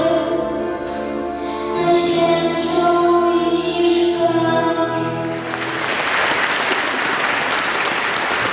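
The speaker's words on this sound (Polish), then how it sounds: "Za wykonanie swojej kolędy otrzymała gromkie brawa." Applause greets a young schoolgirl's Christmas carol performance, rising as a broad wash of clapping in the last few seconds after sustained musical tones and a low voice, fairly loud and close.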